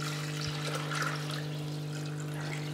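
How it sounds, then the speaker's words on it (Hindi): Measured water poured into a cooking pot for aloo pulao, a soft, steady splashing trickle under a constant low hum, faint and close. "तो ये पानी मैंने नाप के रखा है, ये इसमें डाल देंगे।"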